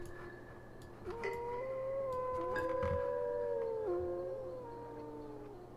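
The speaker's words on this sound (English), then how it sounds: "There's another wolf." Wolves in the video game Tengami howl in long, wavering, gliding cries, with two or three howls overlapping across the stretch over a steady soft musical drone.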